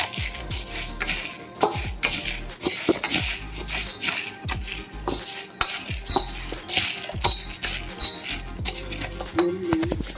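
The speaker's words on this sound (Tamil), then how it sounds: "குண்டு உளுந்து பொன்னிறமாக வதக்கிக்கோங்க." Urad dal dry-roasting in a pan, a spoon or spatula scraping and stirring in repeated close strokes with grainy rattling and occasional clinks of metal.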